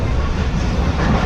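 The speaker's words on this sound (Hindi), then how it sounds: "तो जुम्मा कोट फाटक आ चुकी है और स्टेशन को स्किप करने जा रही है ट्रेन।" Karachi Express running at high speed on rails in heavy rain, a steady, loud, close rumble of wheels and carriage with no voices.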